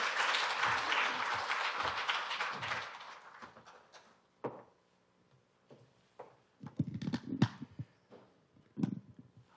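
A forum audience applauds to welcome a speaker, with dense clapping for about four seconds that thins and fades. Afterward come scattered thumps and handling noises near a microphone.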